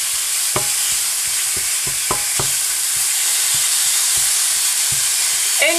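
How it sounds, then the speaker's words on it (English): Ground beef sizzles loudly and steadily in a hot pan, a constant close hiss broken by scattered sharp ticks and spatula scrapes, with no voices. "I'm just gonna add the beef here and it's already nice and hot"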